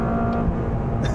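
Steady engine drone of a 2023 Toyota GR Corolla AWD hot hatch held in third gear on a track, heard from inside the car as a constant close, loud hum with no talk.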